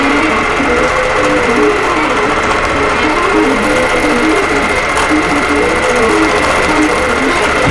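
A longarm quilting machine runs steadily, stitching a Merriment pantograph design across a Good Tidings quilt with a continuous loud mechanical hum and rapid rhythmic needle clatter throughout, with no talk.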